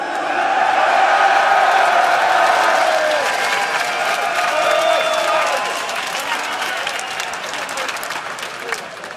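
A large live crowd at an EU LCS League of Legends esports match fills the hall with sustained applause and cheering, loud and dense at first and easing slightly toward the end.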